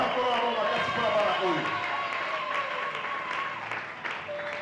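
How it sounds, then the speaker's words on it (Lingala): An audience applauds children at a church anniversary celebration, a steady wash of clapping heard under a loud voice and tonal music-like sounds that fade slightly toward the end. "Acclamez pour ces enfants-là."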